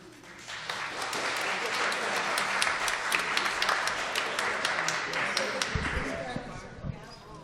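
Sustained audience applause from a live stage-show crowd, dense and steady clapping that swells and holds for several seconds before easing slightly at the end.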